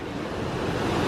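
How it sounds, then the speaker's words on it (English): Rushing white water near Lake Taupo, New Zealand, pours through a flat, fast-flowing falls, a steady broadband roar with some wind noise on the microphone and no voices. "look at that white water"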